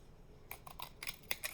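Scissors snipping through pattern paper while making a homemade envelope, a handful of short crisp cuts in quick irregular succession, close and fairly quiet, with no talking.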